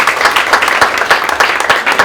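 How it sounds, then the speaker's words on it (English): A room of people at an academic all-star breakfast gives a round of applause for Mr. Heffernan, steady scattered clapping that stays fairly even and close for its full length. "Let's give him a round of applause."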